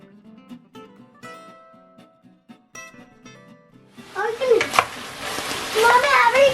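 Food caramelizing in a pan, a sudden sizzling hiss with crackles that starts partway through, after a quieter opening of tonal chimes and clinks. A voice rises briefly over the frying.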